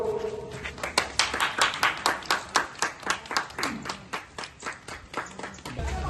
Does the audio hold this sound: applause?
yes